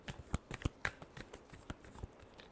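Tarot cards being shuffled by hand, a quick run of soft, close riffling taps and slaps in an uneven rhythm.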